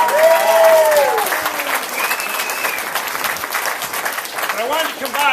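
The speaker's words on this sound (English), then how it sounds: "Give him a great round of applause." A crowd claps loudly and steadily for several seconds, the applause holding strong with a few cheers rising through it.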